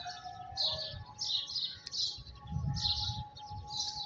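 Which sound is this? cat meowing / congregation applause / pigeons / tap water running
pigeons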